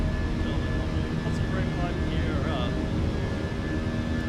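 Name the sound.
airliner engine climbing in a flight simulator game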